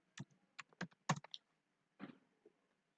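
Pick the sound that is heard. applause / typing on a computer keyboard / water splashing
typing on a computer keyboard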